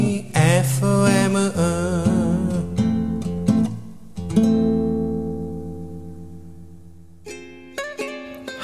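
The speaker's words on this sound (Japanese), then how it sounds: "聞いていただきました、" A solo acoustic guitar plays a bossa nova, with plucked bass notes under syncopated chords, up close and clear, easing off near the end.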